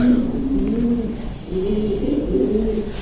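A male pigeon at a home loft coos in low, rolling phrases, two or three close, fairly loud coos in quick succession.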